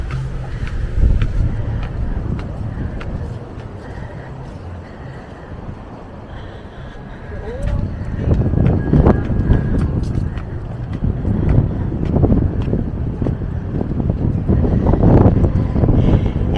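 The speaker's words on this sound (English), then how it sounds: "There's quite a bit of wind." Strong wind buffets the microphone on a beach promenade at Maspalomas in the Canary Islands, a loud continuous rumble that swells and gusts harder in the second half.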